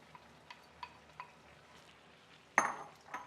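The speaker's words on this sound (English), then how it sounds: "You can get that nice stir around." Passata being stirred into a pot of simmering lentils, vegetables and rice, with a few soft spoon taps and scrapes, then a louder clatter of utensil against the pan near the end.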